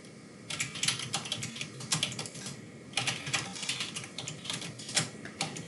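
Rapid clicking on a computer keyboard, in uneven bursts of keystrokes that are close and fairly quiet, with no talking.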